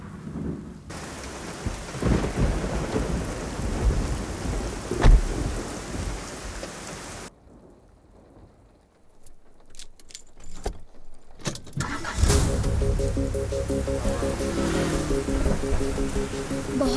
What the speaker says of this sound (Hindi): बहुत जोर की बारिश हो रही है जान